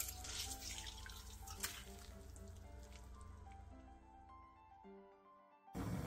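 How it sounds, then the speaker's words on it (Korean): Soaked dried pumpkin strips rubbed and rinsed in water, sloshing and splashing close up with faint dripping and a quieter pause near the end, no voices. "불린 호박꼬지는 벅벅 주물러가며 물에 2~3번 정도 헹궈낸 뒤 물기를 한번 짜주세요"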